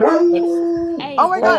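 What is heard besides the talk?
Great Pyrenees farm dog howling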